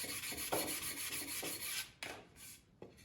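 Double-sided sandpaper rubs back and forth across wood in quick, raspy strokes, close and fairly loud, with brief pauses between passes and no talk.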